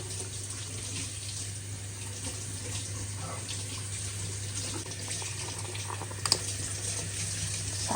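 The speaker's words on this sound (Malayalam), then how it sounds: "ചായപ്പൊടി ഇങ്ങനെ തിളച്ച് വരുന്നുണ്ട്." Tea with tea powder boiling in a pan, a steady close bubbling hiss that runs unbroken throughout, with one small clink near the end and no talking.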